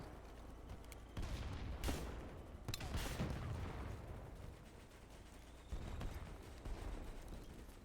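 Gunfire in the online shooter BattleBit, with bursts of rifle and submachine gun shots at moderate distance, sporadic loud cracks amid a busy, rumbling battlefield.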